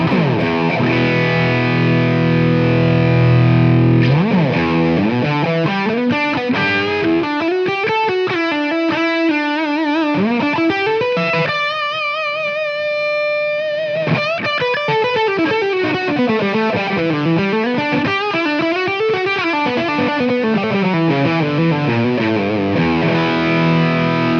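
Electric guitar played through a TONEX blended amp capture with the presence control raised: a thick, heavily distorted tone with sustained chords and melodic bends, loud and continuous with no talking.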